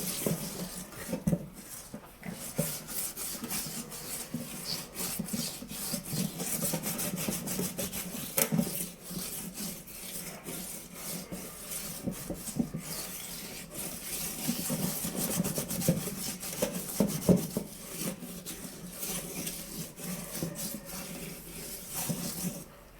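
Close, steady scrubbing and rubbing as a rusty iron pan is worked all over with a cleaning paste in a home kitchen, giving continuous gritty friction strokes with small scrapes and knocks, no talking.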